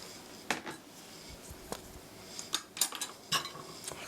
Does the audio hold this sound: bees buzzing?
no